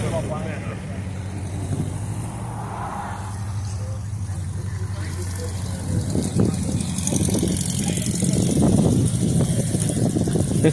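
A 1965 Shelby Cobra small-block sports car engine rumbles steadily at a car show meet-up, with a low, continuous drone that grows somewhat louder and rougher toward the end, while people talk nearby.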